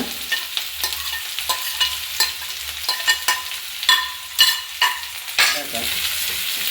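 Green chilli, ginger and curry leaves fry in hot coconut oil, a steady sizzle broken by repeated scraping stirs of a spoon against the pan, close and clear with no talking.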